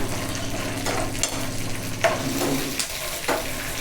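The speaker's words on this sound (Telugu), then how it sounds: "పచ్చిమిర్చి పల్లీలు వేగిస్తున్నాను ఆయిల్ వేసి" Green chilies and peanuts fry in oil on a stove, a continuous close sizzle punctuated by occasional stirring scrapes and clinks, with no speech.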